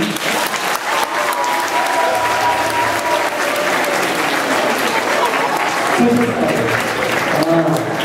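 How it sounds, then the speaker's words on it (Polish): Loud, sustained applause from a large crowd in a high school fills the whole stretch, dense clapping with a few voices mixed in. "Brawa do Natalii"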